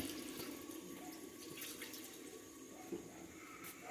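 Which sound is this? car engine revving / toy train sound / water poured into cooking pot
water poured into cooking pot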